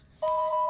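A telephone gives a steady two-tone electronic ring or dial tone that starts abruptly and holds evenly, close and clear, with no talk over it.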